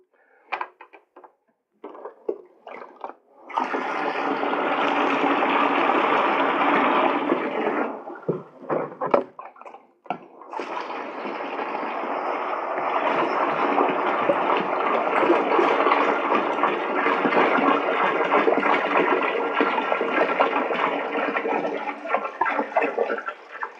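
Water glugs and pours from a container, first in a burst of several seconds and then, once the vent hole is opened, in a smoother, longer, steady stream into a vessel, heard close and loud.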